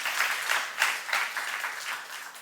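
A church youth congregation applauding during a sermon, a dense, bright burst of many hands clapping together, fairly close and loud, fading slightly toward the end.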